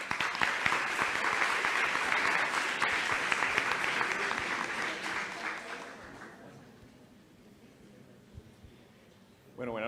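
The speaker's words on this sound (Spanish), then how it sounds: "Démosle, por favor, un aplauso." A packed auditorium audience at a medical lecture on epilepsy claps in sustained, loud applause that gradually fades after about six seconds, leaving quiet room tone before a voice begins near the end.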